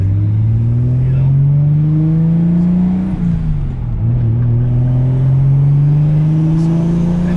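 An 800 hp Toyota Supra cruises on the road, its engine droning loud and close from inside, rising steadily through a gear change with a brief dip before climbing again.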